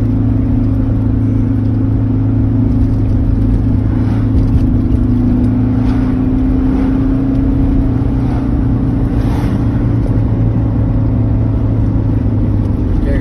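Steady engine drone and road rumble fill the cabin of a car as it drives along at a constant pace, loud and close, with faint voices now and then.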